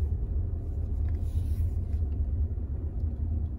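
A learner car's engine pulls away as the clutch is slowly lifted and gas added during a driving lesson, a steady deep rumble heard from inside the cabin, continuous and moderately loud with no clear rise in pitch.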